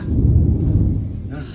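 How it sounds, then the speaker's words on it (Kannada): Thunder rolls during rain: a heavy, low rumble that swells and then gradually fades, with a faint wash of rain noise behind it. "ಮಳೆ ಬರ್ತಿದೆ ಗುಡುಗು ಗುಡುಗು ಬರ್ತಿದೆ ಮಳೆ ಬರುತ್ತೀಗ"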